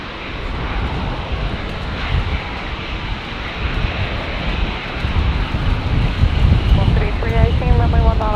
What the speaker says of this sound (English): wind 130 degrees, 19 knots, runway 19 right, clear for landing.